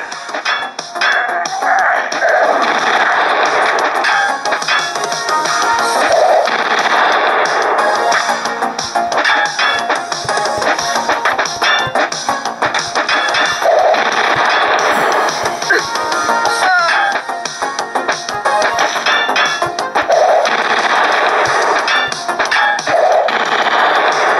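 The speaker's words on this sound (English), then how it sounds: "you start using a chain gun, and it gets very brutal" Rapid, sustained chain gun fire from an iPad arcade video game, a continuous loud mechanical chatter running the whole time with faint recurring tonal game effects over it, no voices.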